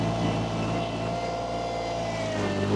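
A KRT ST900HD mini skid steer engine drones steadily nearby as the machine drives and spins, a continuous motor hum at an even level throughout, with no voices.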